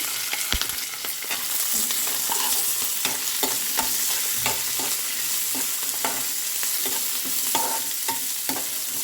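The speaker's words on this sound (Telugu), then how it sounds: "జీడిపప్పులు కొంచెం ఫ్రై కాగానే పచ్చిమిర్చి ఇట్టేసేయాలి" Cashew nuts fry in a pan with a steady bright sizzle, punctuated by repeated scraping and clinking stirs at an uneven rhythm, close and fairly loud with no talking.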